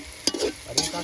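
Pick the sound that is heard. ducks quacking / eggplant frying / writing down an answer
eggplant frying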